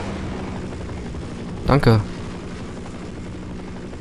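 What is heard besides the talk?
helicopter in the video game Half-Life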